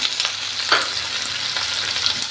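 Onions fry in hot oil for paneer butter masala, a steady close sizzle and crackle with light stirring, running continuously without any talking.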